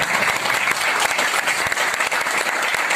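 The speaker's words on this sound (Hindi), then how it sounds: "शानदार तालियां होनी चाहिए एक बार गोल्ड के लिए।" An audience at an IMC direct selling business meeting in Lucknow applauds loudly and continuously. The dense clapping fills the whole stretch without any talk.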